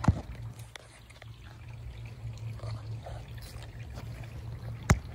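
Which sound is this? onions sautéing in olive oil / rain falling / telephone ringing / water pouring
water pouring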